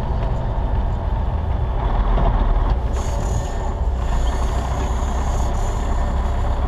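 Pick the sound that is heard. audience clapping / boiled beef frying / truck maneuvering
truck maneuvering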